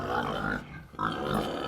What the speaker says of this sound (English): these are just feeder pigs that are kind of jammed in here